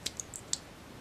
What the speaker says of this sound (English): We'll grab just some wire cutters because I don't have any scissors out here.